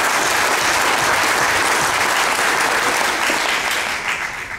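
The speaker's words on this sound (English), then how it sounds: "I wasn't expecting applause." A crowd claps steadily, dense applause that holds for several seconds before beginning to thin out at the end.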